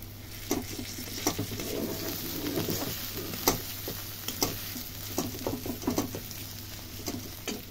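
Chopped tomato frying in a pan of cooked-down spice paste with oil separating, for a boneless lote fish dish: a steady low sizzle with scattered scraping stir strokes and soft taps throughout.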